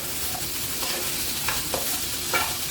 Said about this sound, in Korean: 양파 먼저 볶고